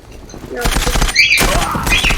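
Pistol fire in the online shooter Zula, a quick burst of sharp gunshots and clatter from the game close up, with game sounds continuing around it.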